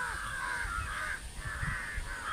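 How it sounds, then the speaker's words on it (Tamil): Several crows perched in a tree caw again and again, harsh calls overlapping at moderate distance over faint background noise, with no talking. "மற்ற காக்காலாம் வந்து சத்தம் போட்டுட்டு பக்கத்துலேயே இருக்காங்க பாருங்களேன், மரத்துலேயே."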